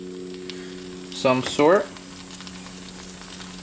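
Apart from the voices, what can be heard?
peas and carrots ration meal heating and sizzling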